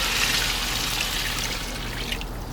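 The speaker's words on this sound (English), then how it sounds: "Then you can add your water to cook this." Hot water poured into a pot of curry goat on a Big Green Egg grill, a steady hissing, splashing stream that runs continuously at moderate loudness, close up and without any voices.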